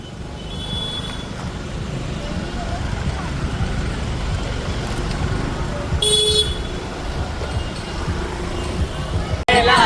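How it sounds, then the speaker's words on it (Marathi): Steady road traffic rumbles during a Ganapati visarjan procession, with engines droning throughout. One car horn toots loudly partway through, and another burst sounds at the very end. "ट्रॅफिक झालंय. ट्रॅफिक बघायला चाललोय कुठपर्यंत आहे."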